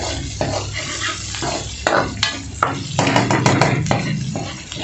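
Vegetables for chicken Manchurian fry in a pan while being stirred, with a steady sizzle under repeated scraping and clanking of a spoon against the metal.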